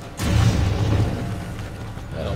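A grenade blast in Metal Gear Solid V: Ground Zeroes, a loud low boom that rumbles on with a rattling, debris-like tail for about two seconds.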